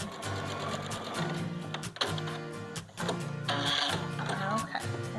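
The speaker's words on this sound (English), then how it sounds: "I'm basically sewing the two pieces of fabric together." A Baby Lock sewing machine runs steadily while stitching two pieces of fabric together, its motor hum and needle rattle continuous and close, with a brief pause midway and a person talking over it.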